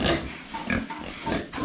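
A few short, close grunts from farm pigs come in quick succession, loud and alone.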